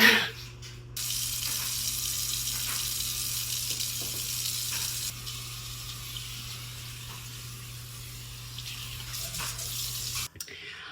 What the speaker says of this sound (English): Now it's time to clean out this sink.